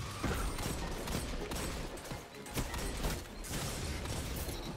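Repeated sharp shots from the Fatebringer hand cannon in Destiny 2 Crucible PvP crack out at a steady, fairly loud pace over a dense wash of other battle noise, with no talking.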